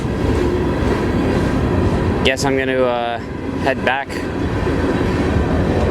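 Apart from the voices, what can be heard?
freight train rolling on tracks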